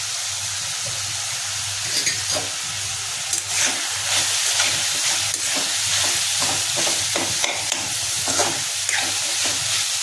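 Grated radish with salt being stirred and mixed in a hot pan, a steady sizzle and hiss with rhythmic scraping strokes of a spoon, fairly loud and close, no voices.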